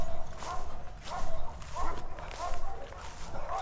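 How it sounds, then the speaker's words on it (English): A neighbor's dog barks repeatedly outdoors at a steady pace, fairly near, with rustling and footstep-like noise around it. "We'll make sure that dog don't get in. It's a neighbor's dog."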